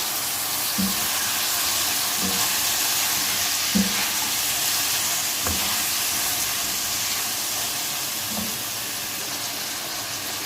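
Onion, tomato and cabbage fry in a pan with a steady hissing sizzle throughout, broken by several soft, evenly spaced stirring knocks of a spoon against the pan, close up and with no speech.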